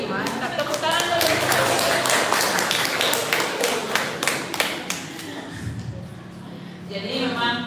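Audience clapping at a campus public presentation in Indonesia, a dense burst of hand claps that fades out over several seconds, with voices entering at the end.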